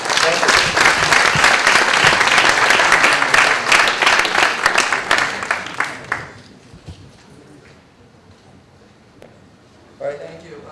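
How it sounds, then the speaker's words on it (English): Loud applause for speakers at a 2012 Seoul conference webcast fills the first six seconds, then fades into a quiet room with a few scattered claps and faint sounds. "I'd like a final applause to our speakers to end up this webcast"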